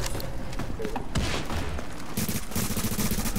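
Gunfire in the video game The Division, with bursts of rapid shots and heavier booms in quick succession, fairly faint under a busy mix as players talk over it.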